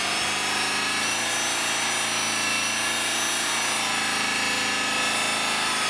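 Rotary polisher running at about 2,500 RPM buffs metal with red metal polish, giving a continuous, loud, even whirring hum with a rubbing drone and no pauses.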